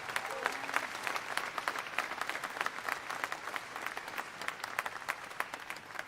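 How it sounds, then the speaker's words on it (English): Scholarship recipients at the Ohio State Fair receive applause from a modest crowd, with scattered individual claps sharp and distinct in a moderately sized room, continuous but fairly quiet. "Let's give them all a nice round of applause."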